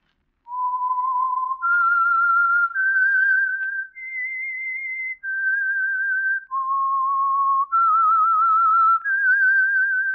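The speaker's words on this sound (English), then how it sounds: "That whistle is your signal for the Signal Oil Program, The Whistler." A clear, solo whistled melody of sustained notes stepping up and down in pitch, with short pauses between phrases, the theme signal of the radio program The Whistler.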